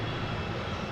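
A jet airliner of flight 5647 departing Boston Logan International Airport, heard as a dense, loud, continuous engine roar with no voices.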